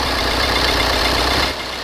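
A car engine idling steadily just after a jump start with a portable jump starter, a constant close rumble running unbroken, dipping slightly near the end.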